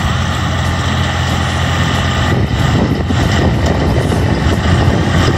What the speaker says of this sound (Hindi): ये वो मशीन है जो गंदम की कटाई करने के बाद उसकी गड्डी बनाती है